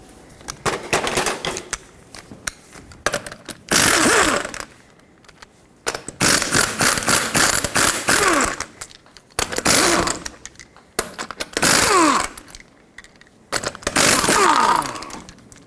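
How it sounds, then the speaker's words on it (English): A socket wrench spins off the five 21mm lug nuts on a 1995-2004 Toyota Tacoma wheel in loud, rattling mechanical bursts separated by short pauses, close up with no talking. "Now you can use a regular size socket to get all the 5 21mm lug nuts off."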